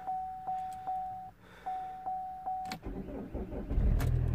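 A Vauxhall Astra J with an automatic gearbox is cranked with a charger connected: repeated near electronic chimes, then a short starter whirr as the engine fires and settles into a rising idle.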